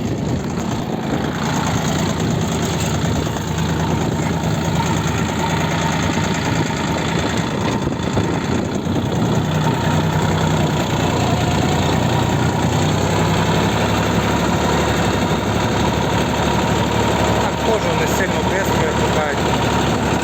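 The engine of a homemade inter-row cultivator runs steadily close by, a loud, dense chugging drone with a slight knock that holds without a break for the whole stretch while someone talks over it.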